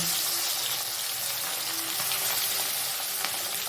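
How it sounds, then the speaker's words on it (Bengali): Mourola fish rubbed with salt and turmeric fry in hot oil in a wok, producing a loud, dense, continuous sizzle with faint pops throughout and no speech. "এবার নুন হলুদ মাখানো মোরলা মাছগুলো তেলের মধ্যে দিয়ে দেব"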